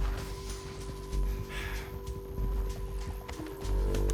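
Horse hooves clip-clopping along in the video game Red Dead Redemption 2, a steady run of soft thuds under a low ambient hum, with a faint voice in the background.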